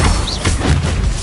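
Bombarda and Incendio spell blasts in the Hogwarts Legacy video game, a loud, near, booming burst with a crashing thud, filling the short moment with dense broadband noise and no talking.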